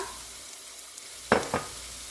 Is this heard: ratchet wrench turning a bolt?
no